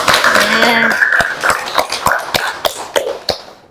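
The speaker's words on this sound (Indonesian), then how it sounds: "Tepuk tangan untuk kita semua hari ini" Classroom of students clapping together at a vocational school lesson, a run of sharp hand claps following a teacher's spoken line, thinning into scattered, separate claps near the end.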